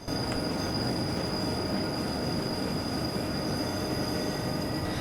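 A simulated train on Switzerland's Albula Line rolls along in Train Simulator 2017, with a continuous rumble of wheels on rails, steady high-pitched wheel squeal and thin tonal whines over a dense low roar.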